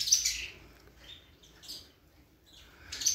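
A canary chirps and sings in a breeder's aviary, short high bright bursts of tweets at the start, middle and end over near silence, close and fairly faint, no talk.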